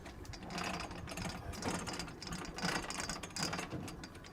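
Anchor chain running out on a yacht with a big anchor, producing a fast, continuous mechanical rattling and clacking that surges in waves of intensity.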